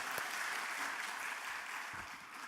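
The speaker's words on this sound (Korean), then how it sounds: "하나님께 영광의 박수 드리겠습니다" Church congregation applauding to welcome a visiting missionary preacher at a special prayer service, a steady, fairly quiet wash of clapping lasting throughout without speech.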